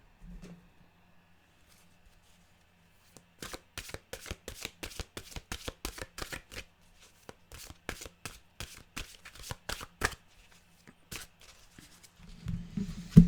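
Mantra cards are shuffled by hand in quick crisp riffles, dozens of sharp close flicks in uneven runs with short pauses between, and a soft rumble near the end.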